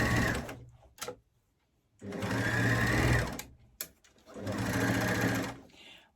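An overlocker sewing elastic onto a garment runs in two long fast-stitching bursts separated by silence and a couple of short clicks, close and loud with a steady buzzing rattle that ramps up and tapers at each end.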